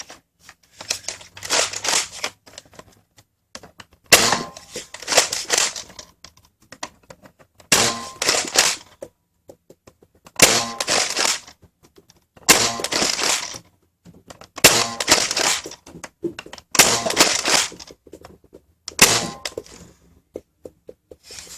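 A Nerf Hyper Siege-50 blaster fires darts in bursts during a chronograph test, sharp rapid clattering volleys separated by short pauses, close and fairly loud, with no voices.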